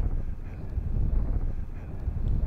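Gusty wind buffeting a microphone on a golf course, a steady low roar rising and falling for a couple of seconds with no voices.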